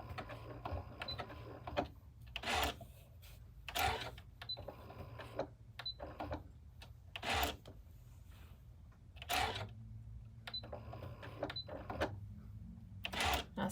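A home sewing machine motor stitching a buttonhole-stitch applique runs in short, quiet bursts with pauses for pivoting the fabric, each burst a brief mechanical whir.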